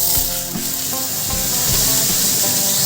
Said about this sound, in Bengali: ফোড়নে দিয়ে দিলাম পাঁচ ফোড়ন আর শুকনো লঙ্কা